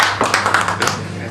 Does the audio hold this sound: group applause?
yes